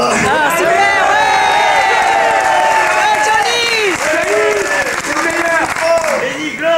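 A cinema audience at a 1992 Gaumont Bordeaux premiere cheers and applauds Johnny Hallyday, with sustained loud clapping, whoops and crowd roar throughout.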